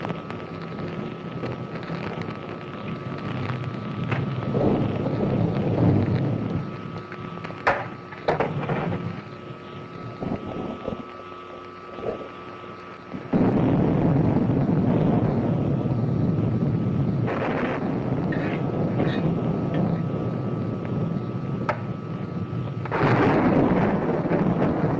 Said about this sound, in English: That's the thunderstorm. It won't interfere.